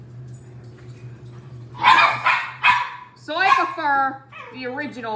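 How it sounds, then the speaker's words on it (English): Dogs bark and yip in the background, several sharp barks followed by higher whining yelps, mixed with a person talking nearby. "Sorry for the dogs in the background."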